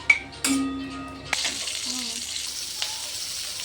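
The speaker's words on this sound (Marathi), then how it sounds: "त्यामध्ये तेल टाकून भाजून घेऊया" Chillies roast in hot oil in a pan, the sizzle rising sharply after a few metal clinks and tones, then settling into a steady crackling fry.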